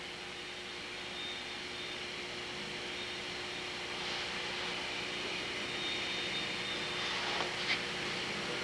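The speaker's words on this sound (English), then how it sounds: "feeding the end mill across the wheel" A tool grinder wheel grinds across the flutes of an end mill, a steady, continuous broadband hiss and whine that holds level throughout with slight swells near the end.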